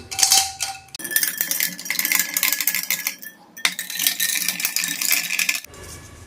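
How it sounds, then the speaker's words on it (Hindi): A spoon stirs lemon drink made from homemade lemon powder, clinking and rattling against the glass in quick repeated bursts with brief pauses, close and alone. "चम्मच से मिला लेते हैं।"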